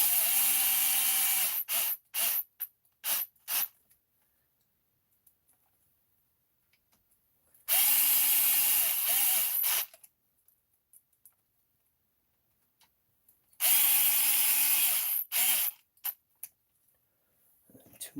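A power screwdriver drives screws into a Redcat Earthquake 3.5 RC monster truck in three loud, steady whirring bursts of about two seconds each, with brief clicks and blips of the tool between them.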